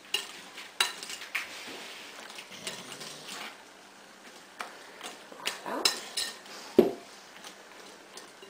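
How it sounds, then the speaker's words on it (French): Thinly sliced cut strawberries are mixed in a bowl for a strawberry tiramisu, giving soft, wet stirring and squelching with scattered sharper clinks of utensil on bowl. The sounds are close and fairly quiet. "les fraises étant coupées, bien mélangées"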